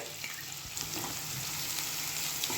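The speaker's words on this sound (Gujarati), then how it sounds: "હવે આપણી ડુંગળી સરસ ટ્રાન્સપરન્ટ થઈ જાય ત્યાં સુધી આપણે આને સાતળી લેશું" Chopped onions and ginger-garlic paste fry in a pan for a Punjabi-style potato curry, giving a soft, steady sizzle with a few faint stirring sounds, no voices.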